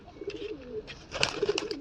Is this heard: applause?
no